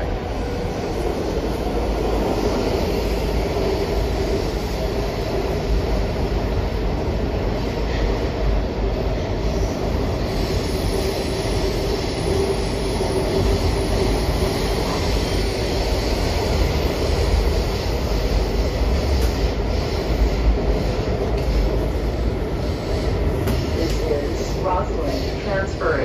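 A WMATA Metrorail 7000 Series train rumbles along the rails at steady speed from Courthouse station, wheels clattering and faint squeals rising, with people talking under the continuous noise.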